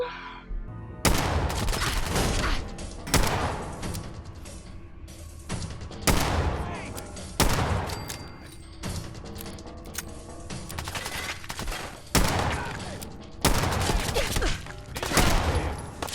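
Gunfire in the video game Fallout 4, loud sharp bursts of shots repeating in irregular clusters across the whole stretch, with a mechanical rattle between them.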